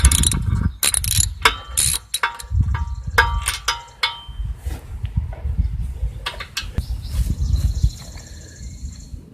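A ratchet with a 5/8 socket clicks in quick bursts while loosening the Champion RC12YC spark plug on a Craftsman power washer, close and loud, with short pauses between runs of pawl clicks.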